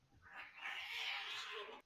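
A house cat gives one drawn-out meow from a short distance, rising and holding for close to two seconds before it breaks off sharply, with the room quiet around it.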